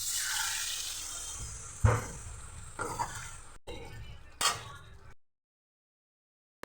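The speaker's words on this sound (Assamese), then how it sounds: "এতিয়া আৰু অলপ পানী দি দিম।" Water pours into a cooking pot of chicken curry on a gas stove, a steady splashing rush with a few sharper knocks, then stopping into silence.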